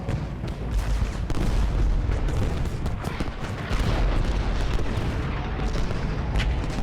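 Artillery booms roll continuously through a Gettysburg battle in the Civil War strategy game Ultimate General: Gettysburg, with repeated dull cannon blasts layered over a steady low battlefield rumble, and no speech.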